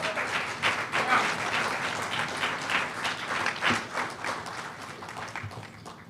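Applause at a South Texas town hall with a senator, a moderately loud, crowd of hands clapping with uneven swells and a few sharper individual claps, continuing steadily without talk.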